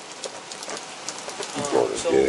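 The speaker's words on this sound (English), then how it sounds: "I know it's raining." Steady rain falls outdoors as a soft, even hiss with scattered drops, heard beneath people talking and rising slightly toward the end.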